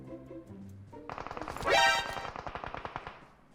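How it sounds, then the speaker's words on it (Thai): Rapid automatic gunfire from the video game PUBG Mobile rattles out in a dense burst of evenly spaced shots, loud and close, with one especially sharp shot near the start and no voices over it. "มันยิงกันคนละฝั่งอะ"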